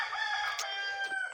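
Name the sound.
cockerel crowing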